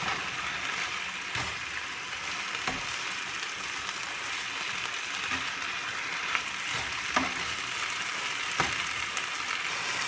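Scallops sear in a hot pan, giving a steady, close sizzle and crackle that runs unbroken throughout, with a few sharper pops and light scrapes over it.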